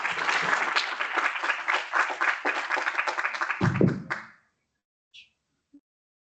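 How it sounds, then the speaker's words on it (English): An auditorium audience at a business conference applauds loudly and steadily for about four seconds, then stops abruptly, leaving silence broken by two faint clicks. "Please give them a big round of applause."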